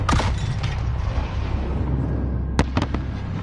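An illumination flare launching in the Modern Warfare campaign amid battle: a sharp burst opens the clip, a low rumbling bed follows, then a quick cluster of cracking pops near the end.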